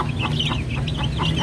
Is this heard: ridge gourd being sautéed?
no